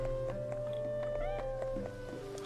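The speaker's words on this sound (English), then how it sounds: "Oh, there's a cat." A cat meows in the Octopath Traveler video game, a short in-game cry over steady background music with a tonal drone underneath.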